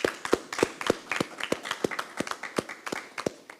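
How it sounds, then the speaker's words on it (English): Small audience at a regular council meeting giving a round of applause, a few people clapping in a sparse, fairly even rhythm, close and modest in volume. "since he's up there, a round of applause, everyone"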